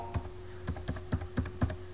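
Keystrokes on a computer keyboard entering a password, six or so distinct clicks spaced irregularly over a steady faint hum, with no one speaking.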